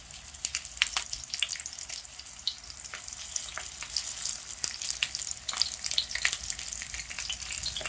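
Meat sizzles and crackles steadily on a hot grill plate while grilling, with a bright, constant hiss and frequent sharp pops, close and fairly loud.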